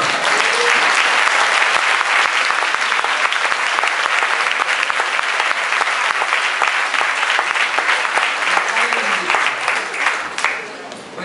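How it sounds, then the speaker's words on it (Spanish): Sustained, dense applause from a large audience at a breakfast meeting event, loud and continuous for about ten seconds before tapering off at the end. "Un aplauso para los delantales de las mujeres."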